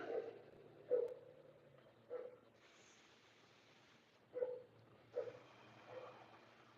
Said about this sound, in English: There's dog barking over here incessantly.